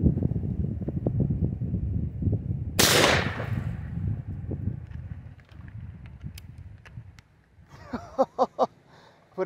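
A golf ball cannon fires at computer monitors outdoors, one sharp loud blast partway through, with rustling wind noise before it and a few short knocks afterward.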